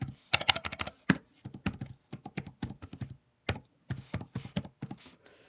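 Typing on a computer keyboard while entering text into an Excel 2016 cell: quick bursts of crisp, close key taps in uneven runs separated by short pauses, with no talking.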